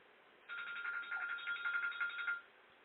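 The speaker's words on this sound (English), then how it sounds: "Sorry about my phone ringing here." A phone rings in a steady warbling electronic pattern for about two seconds, moderately loud against a quiet room with no talking.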